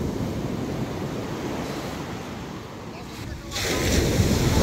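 Sea waves wash steadily onto a beach, a loud broadband rush of surf with wind noise, rising into a fresh breaking wave near the end.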